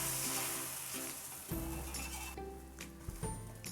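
Egg frying in a pan, sizzling and crackling steadily at close range, with a couple of brief clinks and stirring noises as it is turned to brown on the other side.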